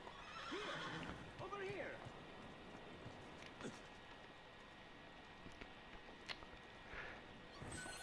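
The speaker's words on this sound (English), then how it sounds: "And I might as well get off the horse here." Horse neighs and whinnies in Assassin's Creed II, with clip-clop hooves between the calls and a voice talking over parts of it.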